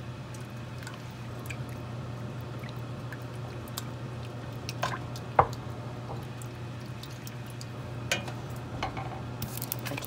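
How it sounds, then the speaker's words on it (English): Cream simmers on low heat in a pan for Cajun shrimp fettuccine, giving a steady low bubbling hum with scattered soft pops and small clicks, one sharper tick near the middle, and no talking. "Let that get to cooking on a low simmer."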